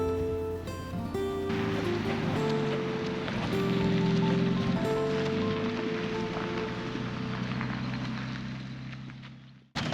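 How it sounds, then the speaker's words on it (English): Hard rain pounds steadily on a campground in Custer State Park, South Dakota, a dense, loud, continuous drumming wash that holds for several seconds and then cuts off abruptly at the end. "It's raining pretty hard."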